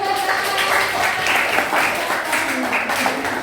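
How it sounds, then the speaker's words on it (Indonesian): Classroom applause from students, a steady patter of many hands clapping throughout at close range, with some voices mixed in. "Tepuk tangan."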